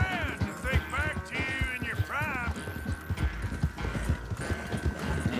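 A horse gallops in Red Dead Redemption 2, its hooves drumming in a quick, steady rhythm close by while a game score rises and falls over it.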